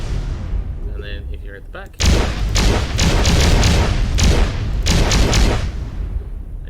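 Star Wars AT-TE walker turrets in a modded Ark Survival Evolved game fire a loud, rapid series of booming blasts from both front and rear guns, preceded by a short spoken line.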